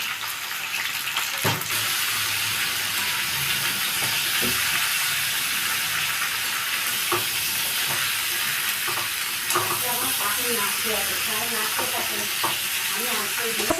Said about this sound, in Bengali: সবজিগুলোতে আমি নুন আর হলুদ দিয়ে একটু ভেজে নেবো